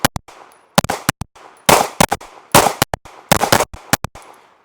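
A SIG P365 XMacro pistol fires a string of sharp, loud shots at an uneven pace, some in quick pairs and some spaced apart, each crack followed by a short ringing tail.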